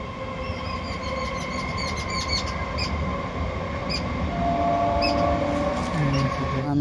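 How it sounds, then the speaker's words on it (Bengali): A train pulls into a station with a steady rumble and rolling wheel noise, with faint metallic squeals and rattles over the top and no talk. "ট্রেন ঢুকে গিয়েছে, দেখো কেমন লাগছে ট্রেন এখান থেকে"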